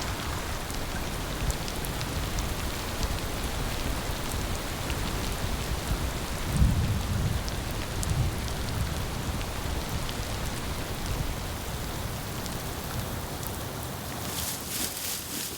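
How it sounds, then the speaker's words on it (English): Steady, dense rain falls on the dry savanna of Moru in the Serengeti, a continuous hiss with a faint low rumble partway through. "The rains are generous now. Every day they fall on Moru"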